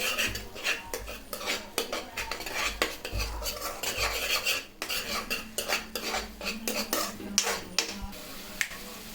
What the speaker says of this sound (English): Now mix it well for little time.